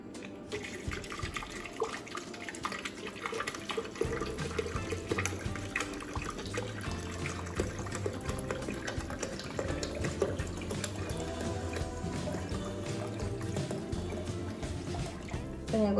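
Ice water runs and splashes continuously into a serving glass while making watermelon mint juice, with clinking ice and small knocks, a busy kitchen bed of liquid sound throughout.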